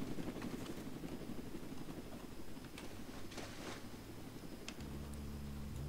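Helicopter in the Roblox game Jailbreak, a steady low rotor drone with rapid chopping pulses running throughout at a constant level, with no talk over it.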